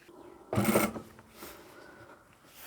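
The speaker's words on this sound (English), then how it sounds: "you want to increase your stitch length when you're top stitching" A sewing machine top stitches a two-tone leather and vinyl zipper pouch, giving one close, loud burst of needle clatter followed by quieter mechanical whirring.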